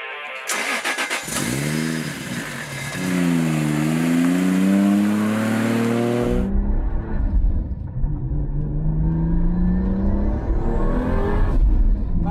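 An 800 hp turbocharged street car engine cranks, catches and revs with rising harmonic tones, then settles into a deep, loud rumble as it pulls away and accelerates.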